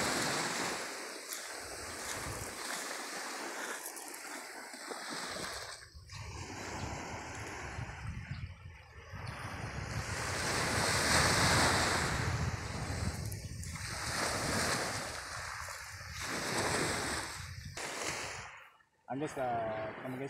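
Ocean waves breaking along a long shoreline at Laua-an, Antique, a continuous surging roar that swells and recedes, mixed with gusty wind buffeting the microphone.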